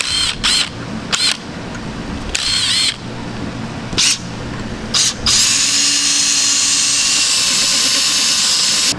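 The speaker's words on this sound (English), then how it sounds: "We're gonna drill all of that out so we can install our new hardware." A power drill bores out threaded nuts while converting a FWD cable transmission to hydro. It opens with several short, loud bursts, then settles into one sustained high whine that runs to the end.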